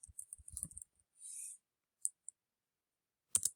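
Several sharp mouse clicks on a computer, a quick cluster at the start and a few isolated clicks later, close and fairly quiet with silence between.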